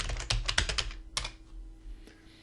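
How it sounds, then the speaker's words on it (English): Rapid keystrokes on a computer keyboard as a password is typed at a login screen, a quick burst of close, crisp clicks followed by a few scattered taps over a low background hum. "Clicking on login, I need to enter my password."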